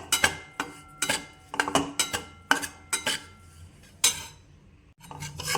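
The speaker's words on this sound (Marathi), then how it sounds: "तर मस्त त्यामध्ये परतून घेऊया तुपात" A spoon stirring a sesame mixture frying in ghee in a metal pan, making a quick series of sharp scraping clinks against the pan, close and clear.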